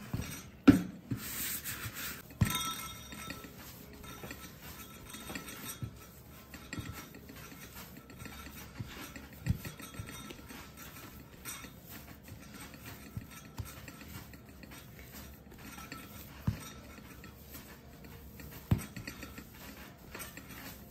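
Kurabiye cookie ingredients are sifted by hand, producing soft rhythmic rubbing and scraping rasps with occasional light taps, quiet and close, with no talking.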